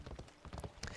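Horse hooves in Assassin's Creed Odyssey clop in a quick uneven rhythm, several soft thuds in one second, faint and close.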